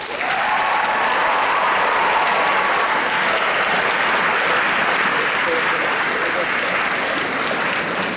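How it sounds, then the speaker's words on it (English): A large crowd of conference delegates at a closing ceremony applauds conference staff, a continuous loud wash of clapping that holds evenly throughout and fades only slightly at the end. "So a round of applause for them."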